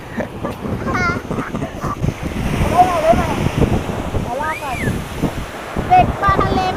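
Sea waves wash onto a beach with a continuous rushing surf and wind noise, while children and an adult talk and call out over it.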